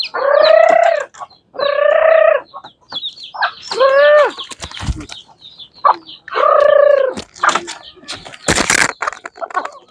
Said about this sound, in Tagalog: Iiyakan na yung mga manok ko